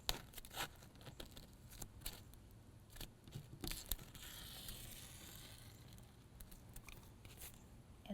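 A strip peeled slowly off a freshly painted edge, a soft tearing and crinkling sound with scattered light taps and rustles, close and faint against quiet room tone.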